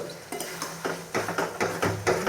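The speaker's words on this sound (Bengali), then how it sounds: "এই যে ঘুগনির মশলা কষাচ্ছি।" Ghugni spice mix stirred and sautéed in a pan, a steady run of scraping strokes that grows more vigorous, close and fairly loud, with no talk.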